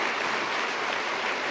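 An audience applauds François Fillon at a forum event, a steady, dense wash of clapping that fills the brief moment without pause.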